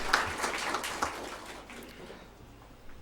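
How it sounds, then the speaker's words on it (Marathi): Audience applauding at an academic seminar on accreditation and education policy, a burst of clapping that is strongest at the start and then thins out and fades over a few seconds. "एकदा जोरदार टाळ्या झाल्या पाहिजे"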